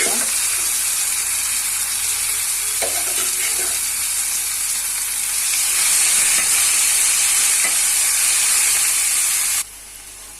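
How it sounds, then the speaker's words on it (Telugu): Boiled cluster bean pieces fry in a pan, making a loud, steady sizzle with intermittent scraping stirs, the hiss easing near the end. "గోరుచిక్కుడుకాయ ముక్కలు కొద్దిగా ఫ్రై అయ్యే వరకు ఇలా కలుపుకుంటూ ఉండాలి"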